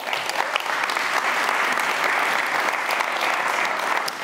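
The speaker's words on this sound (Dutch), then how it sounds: "Geef een warm applaus aan Mitchell Esaias." Steady, full audience applause welcoming a speaker at a creative event, a dense continuous wash of clapping heard close and loud without pause.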